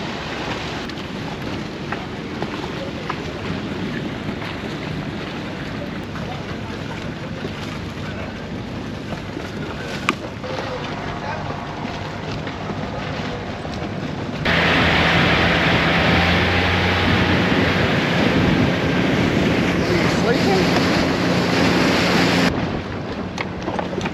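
A boat rides across open sea in the Maldives, with steady engine and water rush plus heavy wind buffeting, growing louder and rougher in the later part.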